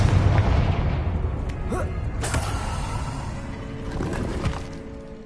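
Confringo fire-blast spell cast in Hogwarts Legacy: a loud, booming explosion with crackling, rumbling debris that stays dense and heavy, then slowly eases off.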